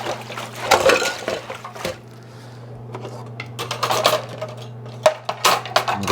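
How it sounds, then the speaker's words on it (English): Vegetables being swished in salted water in a kitchen bowl, with irregular splashes, knocks and clinks that come and go, fairly close. "Some salt to wash the vegetables,"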